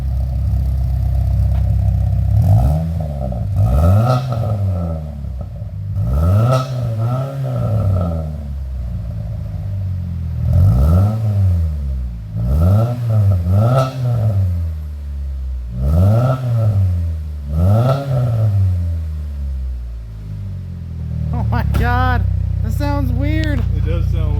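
A Chevrolet Cobalt with an Ecotec engine revs hard through a loud DNA Motoring catback exhaust, several rising and falling bursts with a deep rumble, while people talk and react over it.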